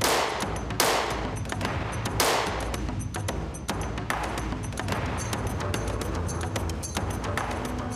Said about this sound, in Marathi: गणपत गायकवाड यांनी 6 सेकंदात 6 गोळ्या झाडल्या